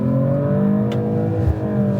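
A 2025 Mercedes-AMG E53 plug-in hybrid accelerating hard from inside the cabin, a loud steady engine drone with a sharp thump near the middle as it makes a hard gear shift.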